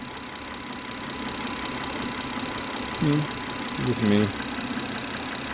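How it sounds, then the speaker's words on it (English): A 2008-2015 Honda Accord engine idles steadily after a broken timing belt and bent valves were repaired, giving a constant mid-low hum close by, with a brief spoken remark partway through. "I'm gonna let it idle."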